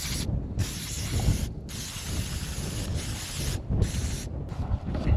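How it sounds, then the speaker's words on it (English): Brake cleaner aerosol sprayed onto a hydraulic leak in several hissing bursts, each a few seconds long, separated by short pauses and soft mechanical handling noises. "We're gonna have to get some brake cleaner and spray it down."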